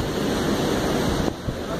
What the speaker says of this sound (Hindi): पानी देख सकते हैं आप, बहुत तेज पानी है यहाँ पे।